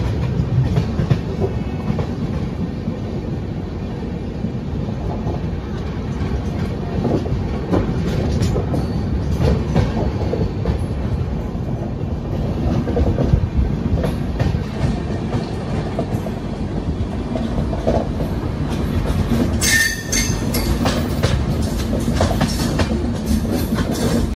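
The 13151 Kolkata Jammu Tawi Express runs on rails, a loud continuous rumble with steady clickety-clack of wheels over track joints and a brief metallic squeal near the end.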